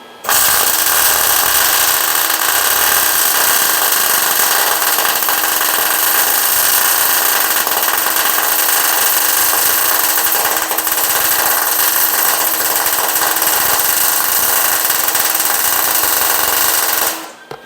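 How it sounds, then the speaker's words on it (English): Continuous loud electric crackle and buzz of a welder laying a bead on a 1978 Ford gas tank cross member being fitted into a 2011 Super Duty, steady and close for the whole stretch with no talk. "Try to weld a bead on that backwards"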